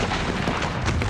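Eleven cannon and some 1,700 muskets firing at once during Pickett's Charge make a dense, roaring blast of sound that fills the whole moment with no break.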